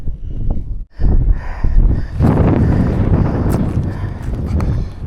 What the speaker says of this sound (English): So windy up here.